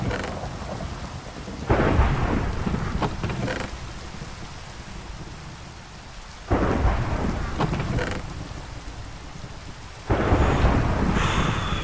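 Rain and thunder in the video game Minecraft, with steady rain hissing throughout and three loud rolls of thunder, each starting with a sudden crack and then fading into a rumble.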